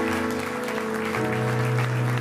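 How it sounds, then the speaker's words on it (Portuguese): Church congregation applauds during a sermon, brief steady clapping from many people mixed with sustained music tones and organ-like chords. "você pode dar um aplauso a Jesus?"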